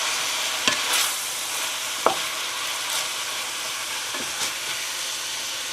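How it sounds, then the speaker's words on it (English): A spoon stirs a pot of braised beef short ribs with bay leaves and cloves, giving a low, steady simmering hiss with a few soft clinks and scrapes scattered through it. No one speaks. "And give this a stir."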